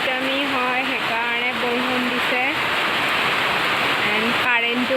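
Heavy rain pours down in a steady, dense hiss that never lets up, with a person talking over it.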